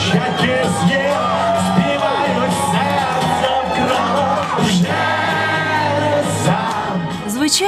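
An audience at a rock band's concert in an arts club in Kharkiv yells, whoops and cheers continuously, a dense wall of crowd noise close to the microphone throughout.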